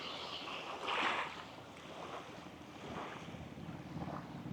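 A boat moves over the sea off Tingloy, Batangas, with a steady low rumble and the wash of water, mixed with wind buffeting the microphone at moderate loudness.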